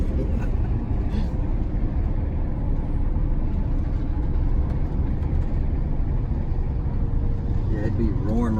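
A GM 4104 bus engine runs while the bus drives, a steady, dense low rumbling drone filling the cabin throughout with people talking over it.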